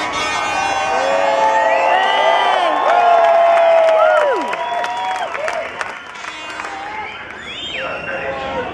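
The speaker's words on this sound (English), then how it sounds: "These guys are cheering for you." A crowd at Silverstone in 2010 cheers and whoops for Lewis Hamilton and Jenson Button: loud, sustained shouting with high yells that eases off after about four seconds and continues more quietly, mixed with voices.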